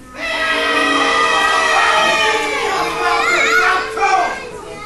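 At a wrestling show, a crowd of young fans yells and shrieks loudly in answer to a wrestler's entrance. The sustained, high-pitched mass of voices rises and falls over several seconds.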